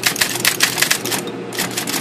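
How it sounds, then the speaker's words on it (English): An Olympia SGE 35 electric typewriter, a three-quarter-size heavy-duty model, types in a rapid run of sharp, close mechanical key strikes, with a brief pause before the clatter resumes. "that's just the highlight of this nice Olympia electric typewriter."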